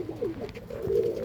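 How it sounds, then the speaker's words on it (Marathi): Pigeons kept in a breeding setup coo softly and continuously at close range, the low throaty calls swelling toward the end, with no one speaking. "आम्ही कबूतर दाखवतो आहे"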